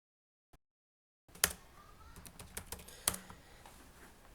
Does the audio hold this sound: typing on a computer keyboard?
yes